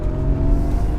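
A 1991 Acura NSX engine humming steadily from inside the cabin while driving, a low continuous drone with a faint whine, no talk.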